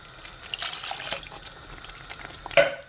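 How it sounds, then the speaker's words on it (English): Water poured into a garlic chilli sauce in a home kitchen, a short soft splashing trickle ending in a brief louder splash near the end, heard on its own. "Fill that with water, and that's the water you need to add to it."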